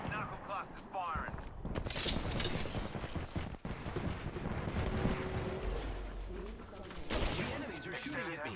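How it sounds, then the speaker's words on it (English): A knuckle cluster weapon firing in a first-person shooter video game: crackling, rapid bursts and mechanical clatter over a shifting game soundscape, with sharp blasts near the end and an electronic whine mixed in. "Stand back, knuckle cluster's firing."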